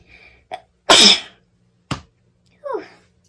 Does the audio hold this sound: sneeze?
yes